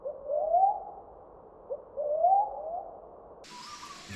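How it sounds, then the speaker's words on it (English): A brown cuckoo dove calls with two soft, low, rising whoops about two seconds apart, moderately near over a quiet backyard background, followed by a brief burst of higher birdsong. "The call of the brown cuckoo dove."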